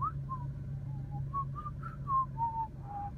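A person whistles a wandering, tuneless melody of short and long notes in a parking lot near a gym, moderately close and fairly soft over a low steady hum.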